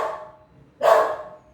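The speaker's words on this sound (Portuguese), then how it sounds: "Meu cachorrinho" A small dog barks twice nearby, a short sharp yelp followed after a brief pause by a louder, fuller bark, with no talking.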